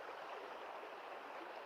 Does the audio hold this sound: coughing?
no